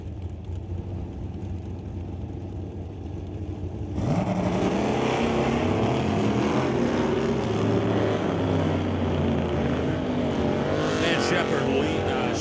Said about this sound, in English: Kerry Riedlinger bringing up the 1965 Pontiac GTO, going up against Steve Shepard and his 69 Firebird